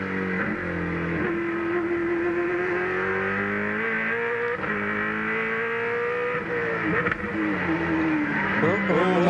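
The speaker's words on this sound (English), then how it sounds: "let's have a listen on board with Skafe" An on-board race car engine at Hidden Valley Raceway drones loudly and continuously, its pitch climbing and dropping sharply through gear changes.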